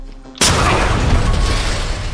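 An explosive charge detonates in the tactical shooter Ready or Not, a sudden loud blast after a short quiet lead-in, followed by a sustained rumbling roar that fades only slightly over the next two seconds.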